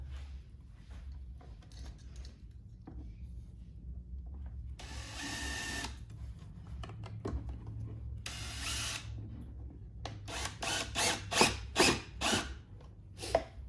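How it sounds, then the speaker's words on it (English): A power driver sends screws into the speaker woofer mount of a 2022-or-later BMW motorcycle: one longer whir, a second burst, then a quick run of short, close buzzing pulses between quiet pauses. "it's ready for you to put your screws back in to hold that in"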